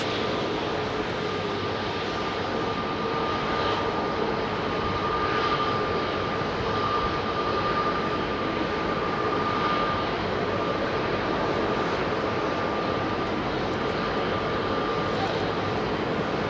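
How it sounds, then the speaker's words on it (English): Qatar Airways Airbus A380 landing at Heathrow, a steady broad engine roar held evenly throughout at moderate distance with a faint sustained whine, no clear rise or fall. "Qatar have operated a 380 into Heathrow today."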